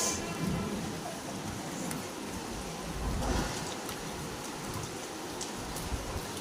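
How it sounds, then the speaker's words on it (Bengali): Heavy rain pours down steadily on a rainy afternoon, a dense continuous hiss with scattered drip impacts, close and fairly even throughout, with no voices. "অনেক বৃষ্টি, প্রচুর বৃষ্টি।"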